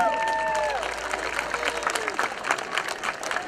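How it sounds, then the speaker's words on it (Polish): A crowd applauds at an American football game between the Lowlanders Białystok and Warsaw Sharks after an interception, with steady clapping and light cheering under a sustained electronic tone that fades. "futbolówkę złapał Kuba Nowicki, wielkie brawa dla niego!"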